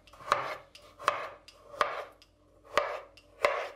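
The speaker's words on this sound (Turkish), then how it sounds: "Şimdi muzu kesiyorum." Knife cutting through frozen bananas for a diet ice cream, five sharp, evenly spaced chops close by with short gaps of quiet between them.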